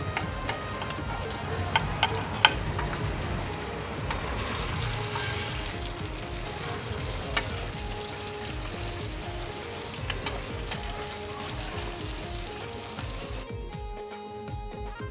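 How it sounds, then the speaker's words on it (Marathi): Flour-coated mandeli fish frying in hot oil on a tawa, a dense steady sizzle with scattered crackles and faint clinks, ending abruptly into near silence. "आता आपण पीठ लावून घेतलेल्या मांदेलीलाही फ्राय करून घेऊया."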